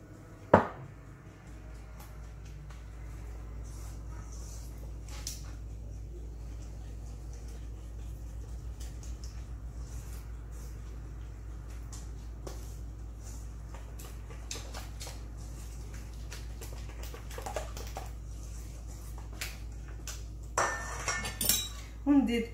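A utensil clinks and scrapes against a bowl while eggs, sugar and vanilla are mixed for a rainbow cake batter, with a steady background hum and a burst of louder clattering near the end.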